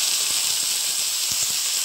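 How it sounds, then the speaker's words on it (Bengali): Prawn legs frying in oil for a bhindi dish, a steady close hiss of hot oil with faint crackles, continuous and unbroken. "এবার আমি মোচার ঠ্যাংগুলো ভেজে নেব।"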